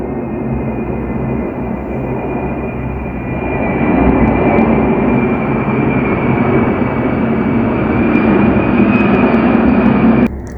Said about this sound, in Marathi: तुम्हाला इथे थोडासा आवाज येत असेल, कारण आमच्याकडे खूप विमानं जातात आणि त्यामुळे त्यांचा आवाज सतत येत असतो